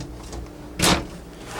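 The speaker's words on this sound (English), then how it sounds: "Very nice deep drawers down low." A deep drawer in the bedroom of a 2008 Gulfstream Crescendo motorhome slides shut with one short, fairly loud thud, surrounded by quiet room tone.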